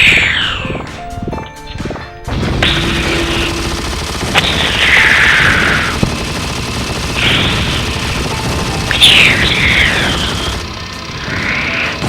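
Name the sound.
gunfire blasting meteors in video game Shadow the Hedgehog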